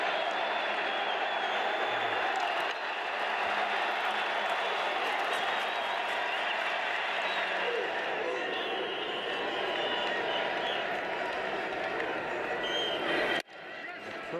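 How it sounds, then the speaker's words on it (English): A pro-Venezuelan crowd at a World Baseball Classic game in Toronto cheers and applauds steadily for over thirteen seconds, a dense, sustained roar with no single claps standing out, then cuts off abruptly near the end. "Pro-Venezuelan crowd getting into it."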